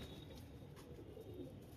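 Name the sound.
pigeons cooing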